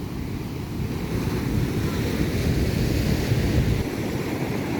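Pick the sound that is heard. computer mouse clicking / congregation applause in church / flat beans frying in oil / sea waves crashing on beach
sea waves crashing on beach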